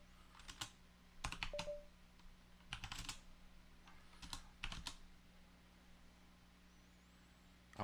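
Short bursts of keystrokes on a computer keyboard while typing Linux terminal commands, clustered clicks separated by pauses, close and fairly quiet.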